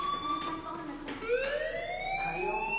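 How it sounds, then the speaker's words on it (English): A fire alarm in the video game Life is Strange, a wailing electronic siren tone rising and falling through a school building, moderately loud with faint voices beneath. "do you hear that fire alarm? That means you should be outside."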